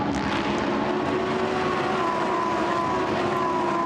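Lamborghini Super Trofeo race cars at Silverstone pass in a loud, continuous engine roar with rising and falling whining pitches, racing close by throughout and without any voices.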